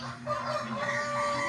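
Live ducks bought for a New Year feast call and quack close by, a short burst of nasal, honking cries over a low background hum.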